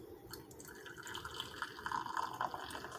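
Thick meat glaze trickles through a canning funnel into a one-cup canning jar, a faint, close, uneven pouring with small liquid drips and gurgles that grow a little busier toward the end.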